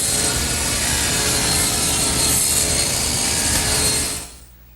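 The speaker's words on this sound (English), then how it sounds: "So I've taken my saw and tilted it to 25 degrees and adjusted my rib fence" A table saw with its blade tilted to 25 degrees rips a bevel along a wooden board against the rip fence, leaving about 3/8 inch of material. A loud, steady whine runs close and unbroken, then drops away abruptly near the end.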